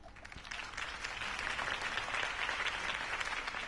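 Crowd applause rises after a campaign speech in Batman: The Telltale Series, a steady wash of many clapping hands heard at a distance for several seconds with no voices.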